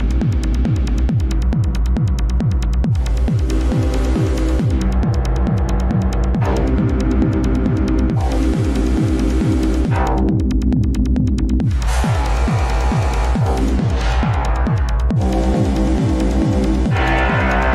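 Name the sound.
granular synth with physics-based modulation, Max for Live techno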